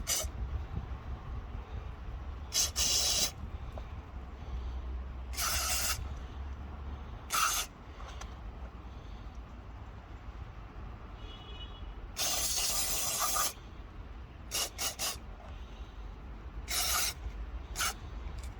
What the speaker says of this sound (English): So here's I'm gonna spray the sensor here.